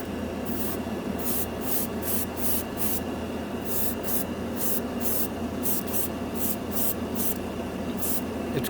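Spaz Stix Mirror Chrome paint hisses from an aerosol can in steady, close bursts, a continuous spray sound broken by rapid rhythmic pulses of the nozzle throughout.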